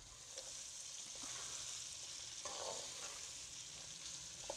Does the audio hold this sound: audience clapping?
no